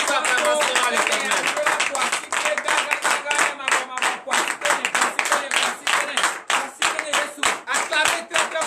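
A church congregation at a morning prayer service in Benin claps vigorously and continuously, with voices shouting and acclaiming over the dense, rhythmic clapping.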